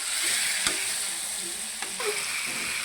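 Chicken masala frying in hot, smoking oil, a dense and continuous sizzle with a few sharp spluttering pops breaking through.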